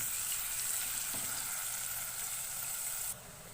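Chopped onion frying in a pan, giving a constant, close sizzle that holds steady throughout and drops slightly in level near the end, with no voices.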